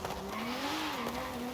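A car in the Forza Horizon 5 racing game accelerating hard in second gear, engine drone rising in pitch then easing off slightly, loud and continuous with a faint squeal on top.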